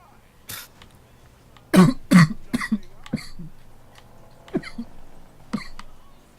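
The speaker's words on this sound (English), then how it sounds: "What, the coughing?" A series of short, harsh coughs, a few close together then scattered ones, fairly near with no talking.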